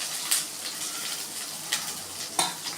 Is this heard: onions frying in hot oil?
yes